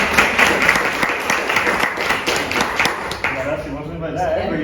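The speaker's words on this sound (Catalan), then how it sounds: "Un aplaudiment." Audience applause at a Catalan book presentation, steady clapping from a room of people filling the whole moment, fairly close and moderately loud, with a voice starting to speak near the end.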